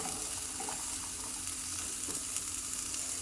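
Vegetables hiss and sizzle in a pot of roasted dalia in a home kitchen, a soft, steady frying crackle with light stirring and no talk.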